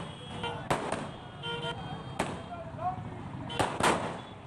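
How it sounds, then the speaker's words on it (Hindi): Firecrackers at an election victory celebration in Uttarakhand: several sharp cracking bursts spaced irregularly over a busy crowd murmur, with voices talking in the background. "पटाखे फोड़ते हुए जीत का जश्न मनाते हुए नजर आ रहे हैं"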